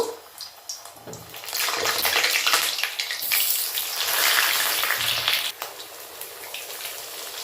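Potatoes frying in hot mustard oil, a loud crackling, spitting sizzle that swells to a dense roar and then eases with scattered pops.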